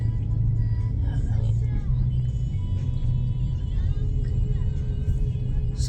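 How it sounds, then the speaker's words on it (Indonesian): A car drives through the middle of Makassar on a calm, traffic-free afternoon, its engine and tyre rumble a close, steady drone that holds from start to end. "Lancar jaya kita berkendara mobil."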